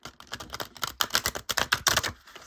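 A large deck of cards with textured cardstock being shuffled up close, giving rapid bursts of crisp, flapping clicks in quick repeated runs, with no talking.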